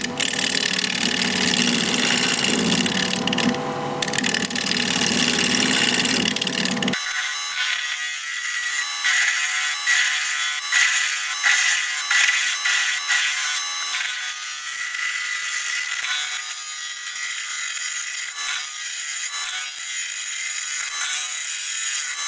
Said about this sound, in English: I'm going to do a little shear scraping right here